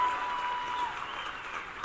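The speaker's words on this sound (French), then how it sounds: "je me laisse applaudir" A crowd at Alain Juppé's political rally in Toulouse applauds steadily, a dense wash of clapping that holds at an even level throughout, with no talk over it.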